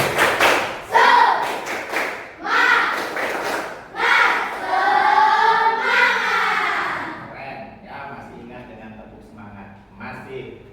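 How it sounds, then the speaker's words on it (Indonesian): A school class performs the rhythmic 'tepuk semangat' spirit clap, loud bursts of group clapping and chanted voices in a patterned sequence, followed by calmer talk and scattered taps. "Coba kita lakukan tepuk semangatnya dulu."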